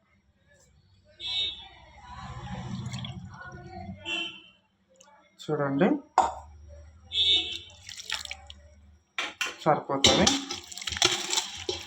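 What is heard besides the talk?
water poured from glass into cauliflower pakoda batter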